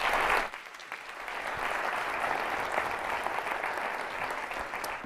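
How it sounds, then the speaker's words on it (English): Audience applause at a forum, a steady broadband wash of many hands clapping that rises after a brief dip and holds evenly throughout, with no talk over it. "give her another round of applause"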